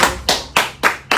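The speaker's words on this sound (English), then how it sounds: "Can you have a round of applause?" A few hand claps ring out during a live TV talk show, five loud, close, evenly spaced claps in about a second with nothing else heard.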